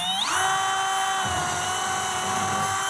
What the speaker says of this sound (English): we actually have to drill a hole in this plastic cover